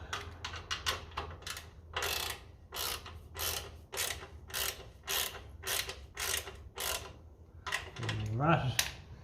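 Close, rhythmic clicking of a ratchet as it tightens a bolt on the exhaust heat shield of a 1954 Ferguson 20 TEF diesel tractor, a run of about a dozen sharp strokes with a short creak at the end.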